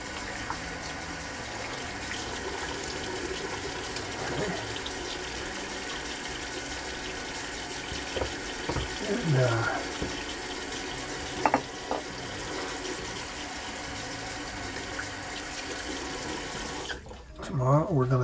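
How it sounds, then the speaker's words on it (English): Tap water runs steadily into a sink while a shaving brush is rinsed clean, a continuous close splashing hiss with brief clatters partway through and a pause near the end. "we're going to rinse out the brush. Get the brush nice and clean for tomorrow"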